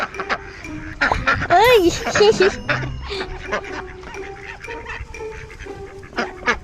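Loud, close quacking and honking from a flock of ducks and geese at a nature sanctuary, overlapping calls with a brief human exclamation and talk mixed in.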